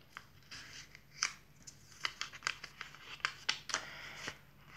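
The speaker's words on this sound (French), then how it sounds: "Je prends un petit post-it. Ah oui, celui-là, il est collé." A small post-it note peeled off its pad, heard as faint, quick papery crinkles and rustles in short bursts, close and quiet.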